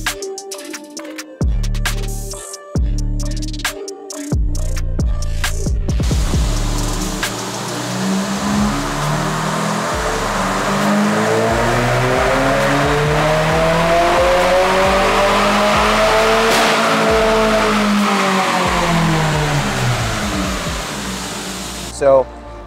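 Turbocharged Subaru WRX with a big turbo on flex fuel making a dyno pull, engine revving hard and loud through a long rising, harmonic-sweeping run after a few short blips, with faint talk early on.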